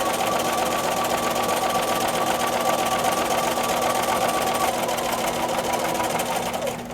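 A sewing machine stitches a quilted reversible placemat at a steady fast pace, its continuous whirring and needle clatter close and uninterrupted, slowing slightly at the very end.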